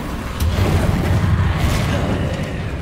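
The Incendio fire spell in the PS5 game Hogwarts Legacy erupts as a loud, dense roaring burst of flame with a heavy low rumble that fills the whole moment, steady and close, with no speech over it.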